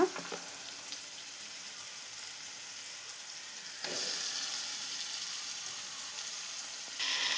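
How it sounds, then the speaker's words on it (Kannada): Tomato fries with onions in a pan for an aloo green peas kurma, a continuous moderate sizzle that swells louder midway, with a faint stir at the start. "ಟೊಮೆಟೊ ಚೆನ್ನಾಗಿ ಫ್ರೈ ಆಗಿದೆ"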